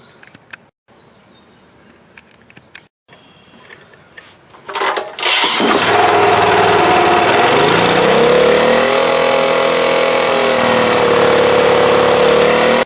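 Honda portable generator with a replaced carburetor, choke on, pulled over with a few quiet mechanical clicks and rattles before the engine catches and settles into a loud, steady, close running drone.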